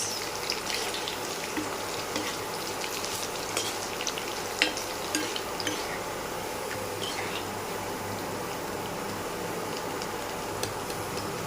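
Baby corn frying in a pan of oil makes a continuous crackling sizzle with scattered sharper pops and occasional utensil clicks, close by and fairly quiet, with no one talking.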